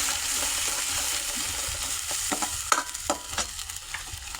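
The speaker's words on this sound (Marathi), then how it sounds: "तेल टाकून त्यात कढीपत्ता टाकलाय ते आपलं वाटण आणलंय बारीक करून ती वाटण टाकली" Ground masala paste frying in oil with curry leaves, a steady sizzle underneath several sharp spoon-scrape stirring strokes in the second half, close and fairly loud with no talking.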